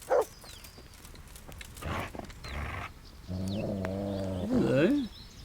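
A dog growls in the Kingdom Come: Deliverance video game, a sustained rumbling snarl that rises into a louder, wavering growl, following a few brief sharp sounds.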